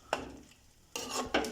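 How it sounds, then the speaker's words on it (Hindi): A spoon stirs yogurt into dhaba-style chicken korma in a pot, giving close scraping and clinking strokes: one short burst, a pause, then two longer bursts of mixing. "अब इसमें दही डालते हैं। दही को अच्छी तरह मिक्स करते हैं"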